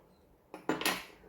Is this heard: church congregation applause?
no